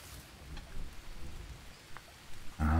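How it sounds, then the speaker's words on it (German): Soft, steady rain patters in the jungle survival game Green Hell, quiet and even under the scene, until a sudden louder burst cuts in at the very end. "Jetzt regnet wenigstens auch mal."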